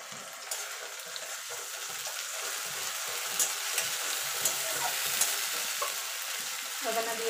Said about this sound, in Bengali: আদা রসুনের কাঁচা গন্ধ যাওয়া পর্যন্ত কষিয়ে নেব